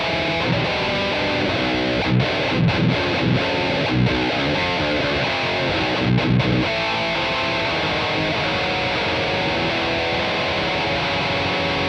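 An electric guitar plays through the LABOGA Mr. Hector amp plugin at its default settings, giving a loud, dense, distorted tone with chugging riffs and brief muted stops, continuous and without talk.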